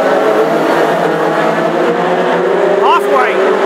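Classic hot rod race cars on an oval track at Northampton drone with a steady, loud engine roar, with a rising whine near the end, under continuous commentary.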